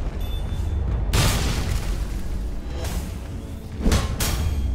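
Cannon weapon in a video game firing heavy booming blasts: one big deep boom early on, then a second pair of booms near the end, each with a rumbling tail.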